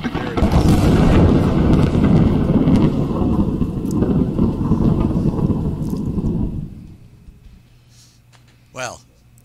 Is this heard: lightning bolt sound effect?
yes